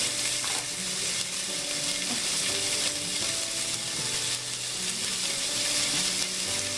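Tomatoes sizzle and fry in a pan for a Nagercoil-style fish curry, a steady close crackle with occasional stirring scrapes and no talk.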